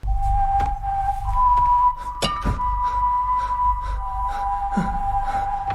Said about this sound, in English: It's not loud, it's not flashy, it's just a whistle.